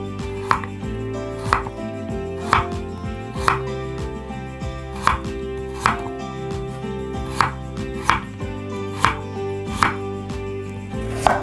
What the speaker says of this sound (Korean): 무도 배추와 비슷한 크기로 썰어주시는데요. 먼저 편으로 썰어주도록 할게요.